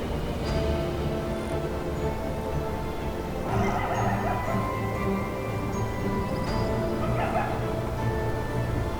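A pack of African wild dogs in the Kruger savanna gives short yips and whimpering calls, several brief bursts scattered over a steady outdoor background.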